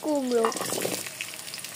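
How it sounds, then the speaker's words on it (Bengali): Pumpkin pieces fry with salt in a pan for vegetable khichuri, giving a continuous close sizzle. A brief voice-like sound opens the moment. "কুমড়োগুলোকে লবণ দিয়ে খুব ভালো মতো ভেজে নেব।"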